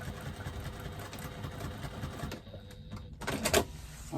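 A sewing machine stitches up a bag seam, running steadily at close range for a couple of seconds before a short pause, then a brief final burst of stitching.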